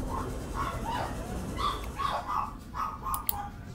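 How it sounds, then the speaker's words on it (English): Small yappy puppy-like creatures in the game Subnautica yipping in quick bursts, a string of high, repeated barks over a soft ambient bed, moderately faint. "These are some yappy puppies."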